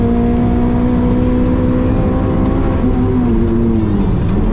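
A cheap £500 car on a track is floored down the back straight to 8,500 RPM, its engine holding a loud, strained, steady drone with a slight falling pitch near the end and no voices.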